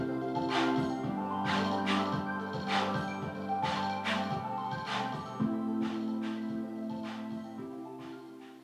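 A full band music track plays steadily at a strong level, drums beating regularly over sustained tones, trimmed short with a fade applied in editing, the level easing down slightly toward the end.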